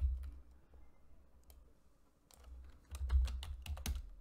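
Computer keyboard typing at a desk: quiet scattered key clicks at first, then a quicker run of close, crisp keystrokes, with no speech.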